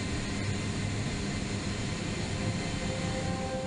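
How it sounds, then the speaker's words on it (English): A C-17 airlifter flies during an airdrop of military vehicles over Fort Bragg, North Carolina, its engines a constant loud roaring wash of broadband noise with no pauses. "you can see a C-17 from the 16th Airlift Squadron executing an airdrop of 8 military vehicles over Fort Bragg, North Carolina"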